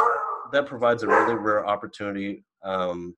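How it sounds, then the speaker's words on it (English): A dog barks and howls in the background, a few voiced yelps heard faintly under someone talking over a remote connection. "sorry, that was my dog."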